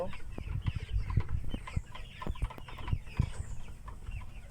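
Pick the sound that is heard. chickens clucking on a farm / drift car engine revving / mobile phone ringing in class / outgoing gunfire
chickens clucking on a farm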